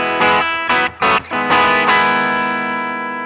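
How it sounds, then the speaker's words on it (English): Electric guitar in bypass through a Boss DM-2 analog delay pedal, a few bright distorted chord stabs with short gaps, then a final chord ringing out and slowly fading, loud and close. "That's our bypass signal."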